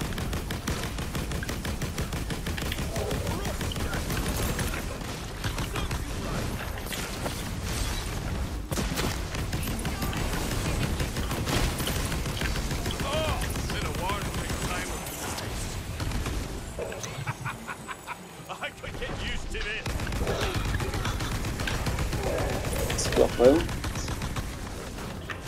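Weapon fire in the video game Tiny Tina's Wonderlands: dense, continuous rapid shots and booms throughout, mixed with game effects and players chatting over the action.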